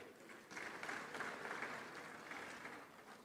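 An audience at a high-level panel on African food security applauds, a soft, distant patter of many hands that swells after a brief lull and holds evenly before tapering slightly.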